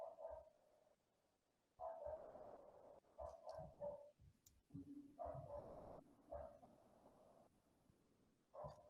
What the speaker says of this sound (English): You can probably hear my dog